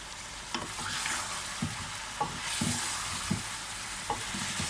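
Chicken frying in a pot for pulao biryani gives a steady soft sizzle, broken by several brief stirring scrapes at uneven intervals, close and fairly quiet with no talk.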